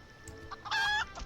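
A rooster in the video game Final Fantasy XIV gives a few short clucks followed by a brief, bright crowing call, close and clear against a quiet background.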